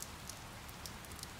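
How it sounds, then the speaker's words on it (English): Steady, soft rain falls in the video game Fire Emblem: Three Houses, a faint even hiss with scattered light drips and no voices. "It's raining, Professor."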